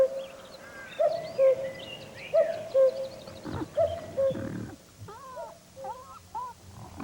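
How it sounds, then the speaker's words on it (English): A cuckoo calling in a German forest, a clear two-note call repeated several times at a steady pace, with other birds chirping in the background and some rustling noises. "The shy cuckoo. Everybody knows its call, but even Rudi Kienast has rarely seen one"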